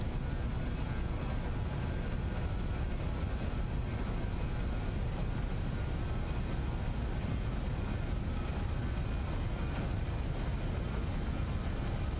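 Just Flight BAE 146 jet engines spooling at takeoff thrust in Microsoft Flight Simulator, a steady, loud, dense roar held without a break for the whole stretch, with no talk over it.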